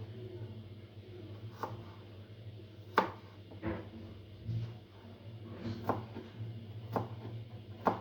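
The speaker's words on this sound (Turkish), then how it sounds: "Soğanları küçük küçük doğrayın" A knife finely chops onions on a cutting board in sparse, irregular chops, a few sharp taps spread out over a quiet kitchen hum.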